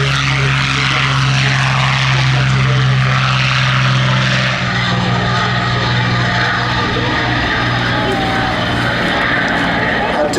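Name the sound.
Curtiss P-40C Tomahawk warplane engine at airshow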